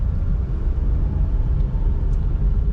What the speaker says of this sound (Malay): Kita pergi test drive ini kereta.